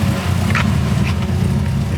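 A steady, low engine rumble runs throughout at an even level, like a car idling nearby, with a few faint higher clicks on top.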